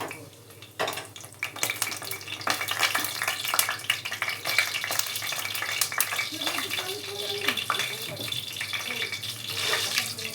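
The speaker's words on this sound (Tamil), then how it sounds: "எண்ணெய் காஞ்சிடுச்சு. போட்டுக்கலாங்க. வெந்தயம், மிளகு, சீரகம்," Fenugreek, black pepper, cumin and mustard seeds crackle and sizzle in hot oil for a Tamil brinjal dish, a steady close frying hiss with small popping specks throughout.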